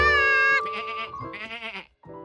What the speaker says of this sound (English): George figured he'd pass the time watching the sheep eat grass.